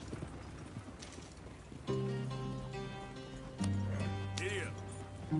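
Horse hooves clip-clop in Red Dead Redemption 2, a light rhythmic patter beneath sustained game music tones that swell partway through.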